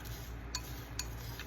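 Sequins being stirred together in a container for a craft mix give a few light, faint clinks spaced about half a second apart over a quiet background.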